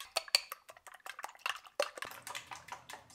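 A fork beats eggs in a bowl for scrambled eggs, giving quick, irregular clinks and taps against the dish, close up with no talking.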